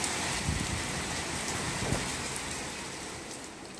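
Steady rain falls on a rainy day at home, a continuous broadband hiss of drops on surfaces with a few louder patters, close and even throughout, no voices.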